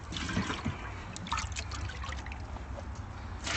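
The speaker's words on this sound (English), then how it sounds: "So I'm just going to take our sap and pour it into our dishes." Maple sap pours and trickles into shallow boiling pans outdoors, a steady soft splashing stream that continues quietly throughout with no talking.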